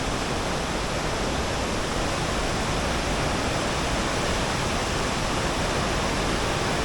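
Waterfall flowing into a river, a loud, dense, unbroken roar of rushing water that holds steady from start to finish with no other sounds.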